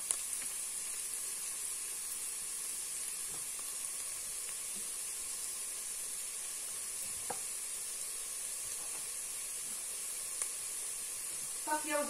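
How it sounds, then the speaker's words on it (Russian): Onion and grated carrot fry in hot oil, giving a quiet, steady sizzle with faint stirring clicks and a few brief clatters near the end. "Вкусно уже пахнет, лук начал поджариваться."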